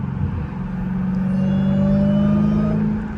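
Supercharged Dodge Hellcat engine with stock exhaust revving under light throttle, a loud sustained rumble with a rising supercharger whine building steadily, heard up close.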